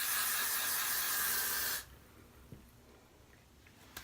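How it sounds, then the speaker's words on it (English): Freeze hair spray hisses loudly in a continuous close burst for nearly two seconds while a frontal wig is being installed, then cuts off to quiet room tone with a couple of faint handling clicks. "Went ham with that spray"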